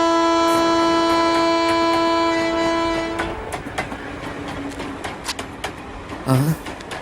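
A loud train horn blares for about three seconds, then train wheels clatter and rattle with sharp clicks, and a short whistle-like squeal near the end.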